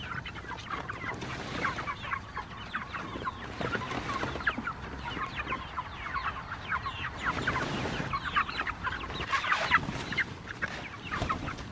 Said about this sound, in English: You chickens are looking mighty fine.